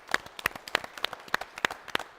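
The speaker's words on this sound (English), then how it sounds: "Let's give him a round of applause." Applause for a game show judge, a handful of people clapping at a fairly even beat, sharp distinct claps roughly every third of a second, close and clear over a quiet room.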